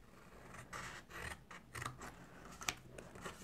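Scissors cut a paper gift box at an angle, making several short, close snipping and rasping strokes with brief pauses between them, with no talking.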